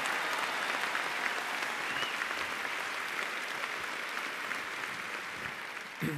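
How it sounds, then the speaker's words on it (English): Sustained applause from a sizable audience, dense steady clapping that fades slightly toward the end. "Give them a round of applause"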